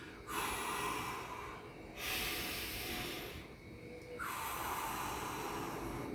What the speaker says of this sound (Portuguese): uma respiração assim, ó.